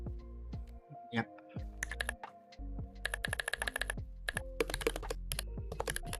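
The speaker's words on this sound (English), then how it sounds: "This is going to be a lot of typing." Typing on a computer keyboard while building an idle game in the Godot 4.3 engine, with bursts of quick, close clicky keystrokes and pauses between them, as a person talks intermittently.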